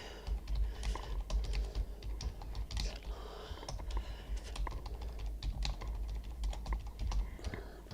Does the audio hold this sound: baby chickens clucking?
no